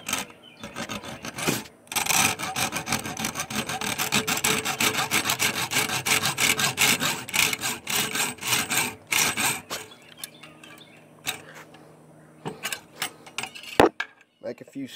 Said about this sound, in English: come here with this coping saw. And again, this is why I love it, because I can go straight down with it